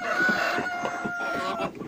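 A rooster kept with egg-laying hens calls out in a fairly loud, drawn-out crowing cluck that fills the moment, with no talking.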